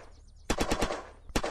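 Gunfire in the video game Unturned: a quick burst of four or five loud automatic shots, then a brief pause and one more shot, close and punchy over quiet background.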